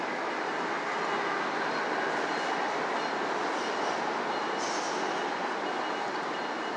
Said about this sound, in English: here comes westbound Union Pacific intermodal on track number one